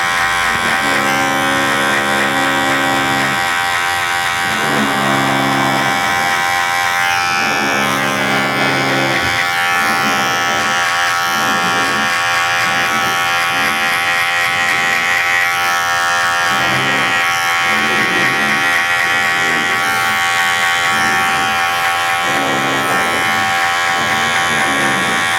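An electric hair clipper with a half-size guard runs through a military fade haircut, a loud, steady motorized buzz with rhythmic pulses as it passes repeatedly through the hair, with no talking.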